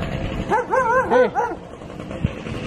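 A dog gives a quick string of four or five yelping barks and whines, close and clear, followed by a brief thump and quiet outdoor background.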